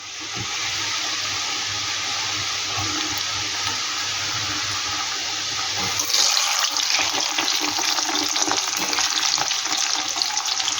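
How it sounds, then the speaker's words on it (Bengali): Cashew biscuits deep-frying in hot oil give a steady, dense sizzle that continues throughout and grows slightly louder and busier about halfway through, with no talking. "একইভাবে আমি সম্পূর্ণ ভেজে নেব একবারে হবে না আমার দুইবারে ভাজতে হবে"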